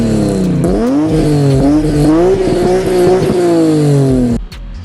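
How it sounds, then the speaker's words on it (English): A BMW E36 exhaust rings out loud and close while driving, the engine note rising and falling through revs with a sharp cut at the end. "the exhaust note isn't bad, but it isn't something to write home about either"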